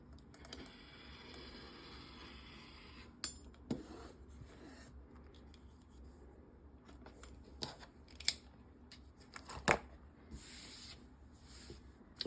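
Scissors snip quietly through quilt fabric pieces, a few sharp close cuts spaced irregularly over a faint, soft background, with no one speaking.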